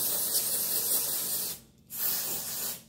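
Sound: spraying Plump for Joy dry shampoo

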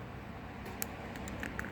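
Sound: crackling sounds

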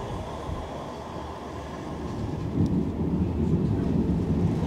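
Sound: Manchester Metrolink tram riding back into Manchester

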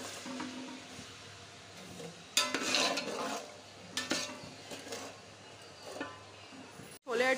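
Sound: spices with salt and red chili powder being stir-fried

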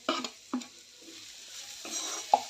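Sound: sizzling vegetable curry with ginger, garlic, kasuri methi being mixed

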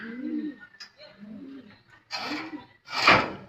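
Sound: bird

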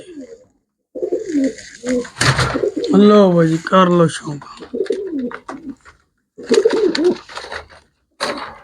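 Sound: pigeons cooing

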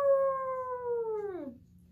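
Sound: imitated wolf howl in a storytime reading

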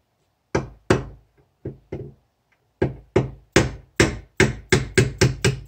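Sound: dead blow hammer striking

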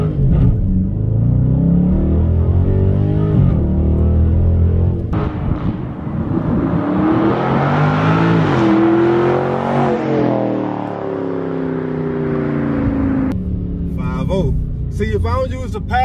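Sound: Dodge Charger Scatpack Widebody accelerating 0-60

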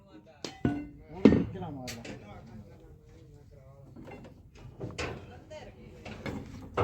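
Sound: hammering during machine cleaning

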